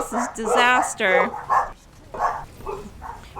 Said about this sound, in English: Apologize for the doggies barking.